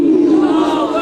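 Crowd at a religious gathering in Kolkata shouts a loud, unified chant in response, a short, strong burst of massed voices lasting about a second.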